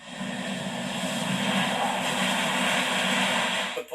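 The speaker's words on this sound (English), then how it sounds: "a mighty Qantas A380, the flagship, back in business" A Qantas A380 super jumbo, the airline's flagship just out of storage, flies over Sydney Harbour, giving a steady, loud broadband jet roar that holds for about four seconds before cutting off.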